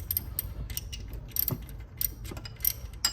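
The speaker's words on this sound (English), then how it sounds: "you're going to need a 16 socket wrench to get those off" A socket wrench ratchets 16 mm bolts off the alternator of a 2007 Jeep Wrangler with the 3.8L engine, giving quick, close, uneven bursts of metallic clicking over a low background rumble.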